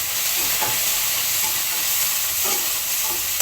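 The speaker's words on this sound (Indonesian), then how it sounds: "togenya langsung saya tumis ya" Bean sprouts stir-fried in a hot pan give a steady loud sizzle, with occasional scrapes and taps of a utensil against the pan over the frying hiss.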